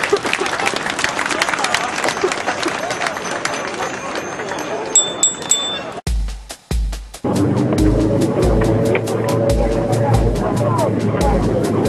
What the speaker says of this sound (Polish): Brawa dla was!